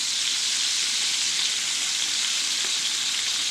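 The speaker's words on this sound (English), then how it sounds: "This fat it'll take off really fast. So you want to get this good sear on it." Duck breast fat sears in a hot pan with a steady, dense, close sizzle that holds unbroken throughout.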